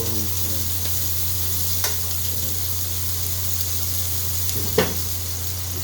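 Carrots fry in oil in a home kitchen, a steady close crackling sizzle over a constant low hum from a kitchen fan, with a couple of faint clicks and one brief louder tap near the end.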